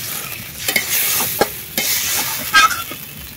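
Water hits a pan of lightly fried onions and spices, setting off hissing sizzle bursts mixed with a few sharp stirring scrapes.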